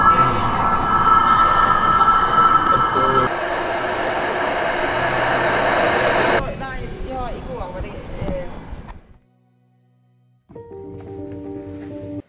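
A train at a station in Norway, with a loud continuous rumble and rail noise that fades out, a brief hush, then a resumed lower hum, with people talking over parts of it.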